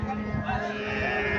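A young Sahiwal bull calf lows in a short, steady moo that carries close and fairly loud for its brief length.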